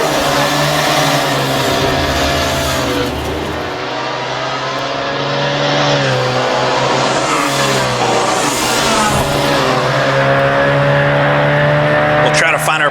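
Formula Junior race cars circulate the Prinzenpark street circuit in the Assetto Corsa racing sim, engines droning steadily with shifting revs, nearby and loud, with a brief tire squeal near the end.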